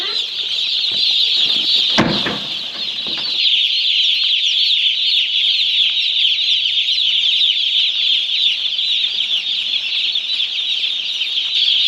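Freshly delivered baby chicks fill a poultry house with a dense, continuous chorus of high peeping. A brief thump and flutter comes near the start.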